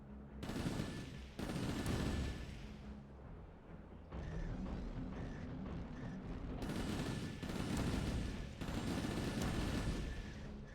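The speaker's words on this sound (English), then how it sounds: "First, destroy the vehicle in front of you. Now, open fire." Mech weapons in Chromehounds open fire in loud, sustained bursts of heavy gunfire, three or four long volleys separated by short pauses, with booming low rumble throughout and no talking.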